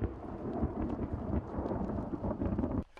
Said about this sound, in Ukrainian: На позиціях починається дощ, а значить і відносна тиша.